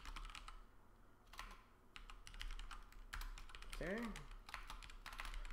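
Rapid, uneven tapping on a computer keyboard during a lecture, with bursts of key clicks close to the microphone and a brief spoken word partway through.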